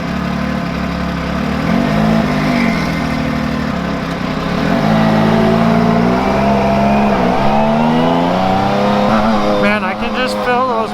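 A UTV engine revs hard on a narrow trail while paddle tires dig in. It roars loud and close throughout with rising and falling revs, and a voice talks over it.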